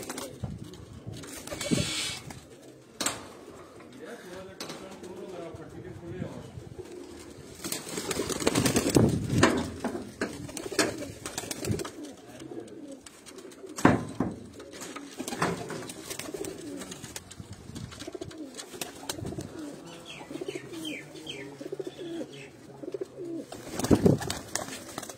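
Pet pigeons in a fancier's loft at 13 Chak Bhalwal coo repeatedly, with soft, low calls continuing over faint rustling and background noise.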